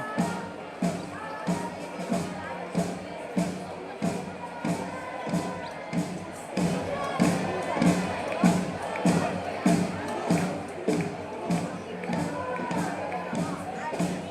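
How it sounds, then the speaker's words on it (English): Stadium crowd at a Chattanooga FC professional soccer match against Inter Miami CF II, a steady mid-distance roar of cheering and murmuring with rhythmic thumps and swells, running continuously beneath a commentator's voice. "Great turnout, great crowd."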